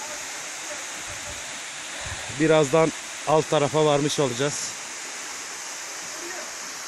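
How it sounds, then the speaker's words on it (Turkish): A rushing waterfall roars as a steady broad hiss throughout, while someone speaks briefly in the foreground over the constant noise of falling water. "her açıdan şelaleyi çekmeye çalışıyorum."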